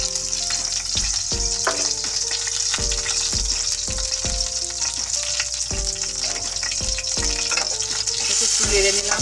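Green chillies frying in a pan make a steady, close sizzle, broken by regular knocks and scrapes as a utensil stirs them.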